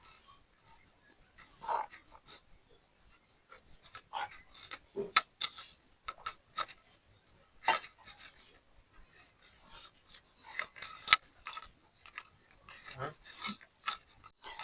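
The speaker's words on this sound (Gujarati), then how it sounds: "અને હવે આપણે હાથેથી આને મિક્સ કરી લેવાનું છે બધું." Wheat flour dough for garlic gathiya is worked by hand with a little oil, giving faint, irregular squishing and rubbing bursts with quiet gaps between them.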